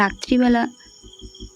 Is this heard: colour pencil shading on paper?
no